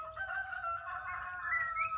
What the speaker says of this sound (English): Sorry about the crow, but I do love cockerel.